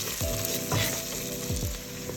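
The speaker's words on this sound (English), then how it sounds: "Here, I'm going to stir this up." A gumbo roux sizzles and fries steadily in a pot while a utensil stirs it. Scraping strokes recur against the constant close hiss, with no talk.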